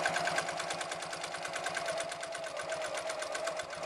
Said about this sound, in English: I'm going to turn and sew across all of this bulky seam till I get to my other line